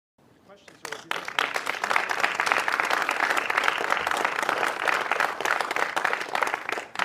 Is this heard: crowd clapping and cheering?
yes